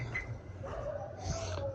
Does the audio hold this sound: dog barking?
yes